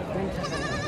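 A goat bleats at a crowded goat market in Sindhri, a wavering nasal cry held for about a second and mixed with nearby voices.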